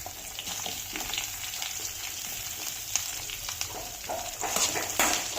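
Chopped onions and red chillies fry in a pan with a faint, continuous hiss and scattered light crackles, plus a few stirring scrapes toward the end.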